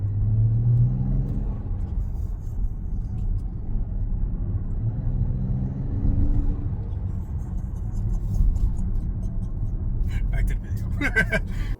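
Turbocharged engine of a 2024 Mazda CX-90 Turbo S: a continuous low rumble and hum heard from inside the SUV, steady and moderately loud throughout, with a brief lighter clatter near the end.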